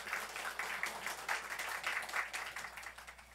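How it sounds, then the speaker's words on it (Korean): Church congregation clapping to welcome a pastor to the pulpit at a church anniversary service, a moderately quiet, steady patter of many hands with a slight swell near the middle, heard alone without voices. "목사님 나오실 때에 기쁨으로 축복하는 마음으로 박수 쳐드리시겠습니다."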